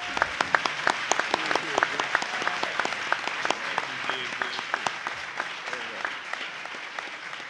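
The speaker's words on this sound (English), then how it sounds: "Could we have a round of applause for all our panelists?" Audience applause for panelists at a San Francisco reentry summit, a dense, steady burst of many hands clapping from a sizable crowd, sustained evenly throughout with sharp individual claps standing out.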